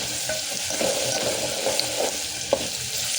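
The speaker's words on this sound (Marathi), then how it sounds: "तर हे 1 सेकंड आपण मसाला थोडासा तेलात भाजून घेऊया" Masala spices frying in hot oil for a spicy village-style chickpea curry, a steady close sizzle with occasional stirring scrapes and a few sharp pops.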